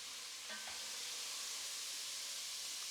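Onions sautéing in a pan for a harissa chickpea stew, a steady faint sizzle and hiss with a brief light clink near the start, with no talk.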